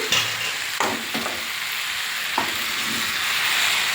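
Chicken sizzles loudly in a pan with onion greens and fried potatoes while being stirred, a steady close frying hiss broken by a few scraping stirs, with no voices.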